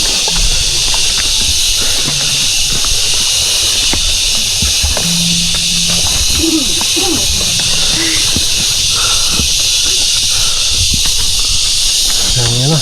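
Cicadas (kuliglig) calling on a hillside hiking trail in Dingalan, Aurora, a loud continuous high-pitched drone throughout, with footsteps and faint voices of hikers underneath.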